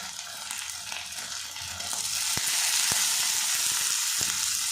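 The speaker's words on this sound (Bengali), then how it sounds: "ভালো করে কষিয়ে নেব।" Chopped chili, tomato and spices with a little coriander leaf sizzle and fry steadily in a pan, a continuous hiss that swells louder partway through, punctuated by a few sharp clicks of stirring.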